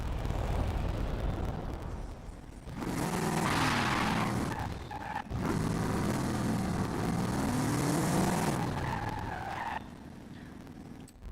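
An Audi races in Forza Horizon 5, its engine roaring loud and steady with rising and falling revs and tire skid noise for several seconds, then dropping back to a lower rumble.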